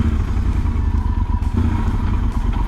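A motorcycle engine idles and putters in a garage with a steady low throb and some metallic clatter, close and fairly loud, with no talking.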